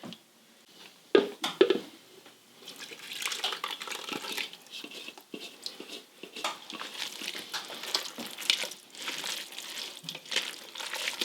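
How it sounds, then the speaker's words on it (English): Sauce pours into a bowl of chopped cabbage and corned beef for a keto casserole, giving a soft, wet splashing and glugging. Mixing and crinkling noises follow, fairly close and quiet, with no talking. "I'm going to pour this into our cabbage and corned beef mixture"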